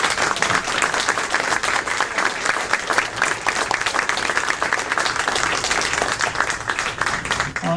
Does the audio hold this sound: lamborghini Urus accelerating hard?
no